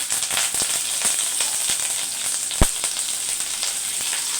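Green chilies and curry leaves crackle in hot oil for a tempering, a dense close sizzle with scattered pops and one sharp louder crack midway.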